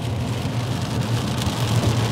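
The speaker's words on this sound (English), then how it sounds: "At least it's raining, not snowing." Steady rain drums on a car while it drives on a wet winter road near Tulsa, Oklahoma, with a constant hiss and low road rumble throughout and no voices.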